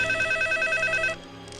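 A telephone rings with a steady electronic trilling tone, loud and close for over a second before cutting off, with no one talking over it.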